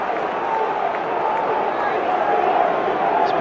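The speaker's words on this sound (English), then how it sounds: "More animation about the Villa Park crowd now." A steady, roaring football crowd fills Villa Park during the 1994 Premier League match between Aston Villa and Swindon. The broad, even wash of voices holds at a constant level under what sounds like a commentator talking.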